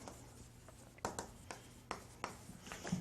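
Chalk or marker scratches across a lecture-hall board as a German word is written out, a series of short sharp strokes at irregular intervals over a quiet room.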